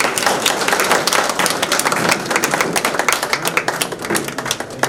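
Sustained, dense applause from an audience at an award and felicitation ceremony for garden committees in Udaipur, steady loud clapping throughout with no talk.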